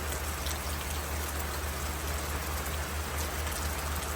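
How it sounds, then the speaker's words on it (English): Steady rain falls on a farm, a dense, even hiss of drops on surfaces with a low rumble underneath, continuous and fairly close throughout. "It's raining right now."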